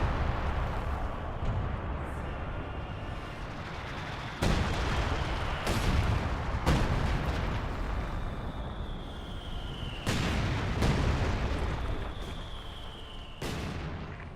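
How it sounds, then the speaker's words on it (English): Mortar and artillery fire in the World War II strategy game Company of Heroes 2, a dense continuous rumble of distant battle punctuated by several sharp loud impacts and explosions, with a couple of high whistling shells arcing in. "it looks like the Wehrmacht mortars are doing some good damage"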